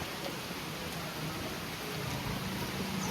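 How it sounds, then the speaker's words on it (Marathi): Rain falls during the Ashadhi Ekadashi Pandharpur wari, a steady even hiss of drops on surfaces with no talk. "आत्ताच बघा पाऊस आलाय."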